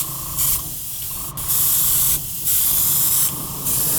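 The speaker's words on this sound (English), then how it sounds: "So I got my airbrush all loaded, ready to go." An airbrush spraying purple paint onto a masked corgi masquerade mask, giving close, loud hissing bursts of spray in several pulses separated by brief pauses, with no talk.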